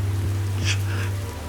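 Rain falls steadily, a close patter and wash of droplets with a few brighter splashes over a low constant hum, and no one speaks.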